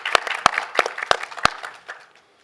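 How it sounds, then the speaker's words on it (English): A small audience gives a brief round of applause at a COP28 panel hangout, a handful of sharp, separate claps spaced out over about a second and a half, then fading away. "Honestly, it needs a round of applause as well."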